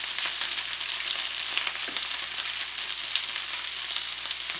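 Chicken pieces fry in hot oil in a pan, giving a steady, dense sizzle and crackle throughout, close and fairly loud with no voices.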